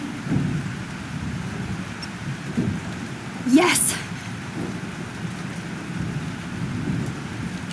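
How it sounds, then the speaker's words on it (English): Rain falls steadily during a thunderstorm in the video game Life is Strange, with low thunder rumbles and one sharper crack partway through, while a voice briefly exclaims. "This storm is real."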